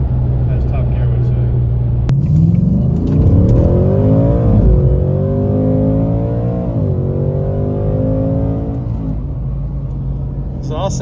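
A Ford Mustang S550 engine and exhaust revs and accelerates through rising gear pulls, a steady loud rumble with climbing pitch, not overly aggressive, continuous for the full stretch.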